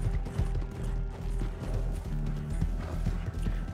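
Horse hooves clip-clopping in the Red Dead Online video game, a quick rhythmic run of hoofbeats over a low background hum.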